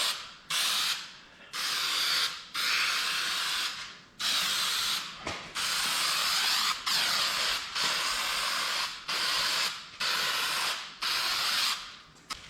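Spray-on varnish sprayed from a can onto an old wooden chair being refinished: about ten close, loud hissing bursts of a second or so each, separated by brief pauses.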